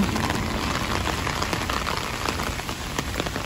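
Steady rain falls on surfaces in a dense, even patter, close and continuous, with scattered louder drops and no voices.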